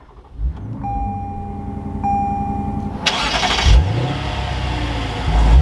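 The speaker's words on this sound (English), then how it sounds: "Let's fire up this RCF." Lexus RC F engine cranks with a starter whine and a steady tone, then catches at three seconds with a sharp loud flare of revs before settling into a rumbling idle, close by.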